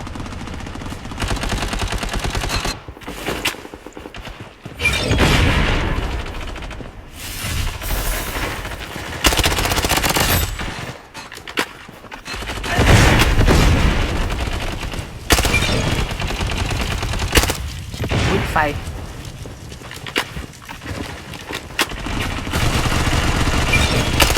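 Rapid automatic gunfire in the Blood Strike video game, dense bursts of shots with booms layered over one another, loud and nearly continuous with only brief gaps.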